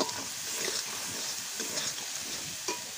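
Spice masala with dry chilli powder sizzling in a pan as it is stirred, a soft steady fry with a few scraping spatula strokes, close and fairly quiet.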